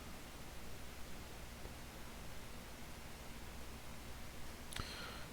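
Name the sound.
white noise playing in the background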